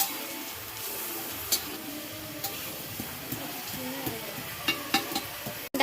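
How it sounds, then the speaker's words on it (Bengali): Potatoes frying in a pan for a meat curry, a soft steady sizzle with occasional stirring clicks and scrapes, fairly quiet and close, with no talk over it. "আলু ভাজা হচ্ছে মাংসের জন্য"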